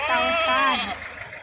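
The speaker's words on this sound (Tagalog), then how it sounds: "Ito naman yung kambing." A goat at a livestock sale ahead of Eid bleats in a long, wavering, nasal call, loud and close, fading after about a second amid outdoor background noise.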